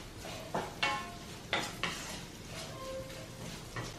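Smoked pork frying in its own rendered fat, with no added oil, in a pan for a Naga-style pork pickle: soft sizzling under repeated scraping and stirring clinks of a utensil against the pan, close up.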